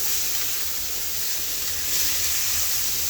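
Chopped onions fry in a pan, a steady, even sizzle and hiss that holds at a constant level throughout, close and with no talk.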